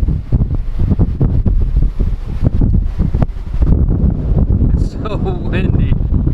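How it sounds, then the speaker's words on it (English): Strong gusty wind on a foggy ridge at Smith Mountain Lake buffets the microphone in heavy, roaring bursts, with a voice briefly audible near the end. "Windy. You guys probably can't hear a thing."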